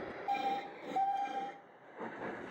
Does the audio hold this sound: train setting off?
yes